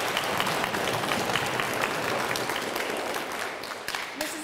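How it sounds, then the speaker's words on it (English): Audience applause at an elementary school DARE graduation, dense, continuous clapping from a large crowd that stays steady throughout and thins slightly near the end. "Let's give him a round of applause."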